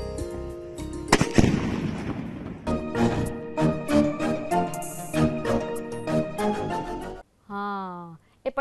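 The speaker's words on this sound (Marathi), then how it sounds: "जेव्हा ही गन पावडर पेटते तेव्हा ती बाजूच्या कागदाच्या आवरणाला फाडत फुटते" Gunpowder firecracker in a paper casing bursting with a loud, crackling bang that decays over about a second, followed by a stretch of tonal, music-like sound.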